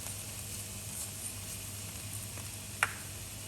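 Thick pineapple jam with sesame seeds simmers and is stirred in a pan, giving a faint steady sizzle with soft scraping and one sharp clink near the end.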